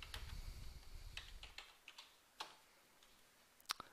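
A computer keyboard gives a handful of sparse, faint keystrokes in a quiet room, spaced out irregularly over a few seconds.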